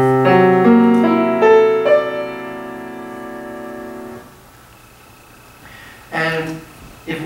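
Scriabin's mystic chord, six notes stacked in fourths, played on piano: its notes enter in quick succession and ring together for about four seconds, then fade to near silence before a brief new chord near the end.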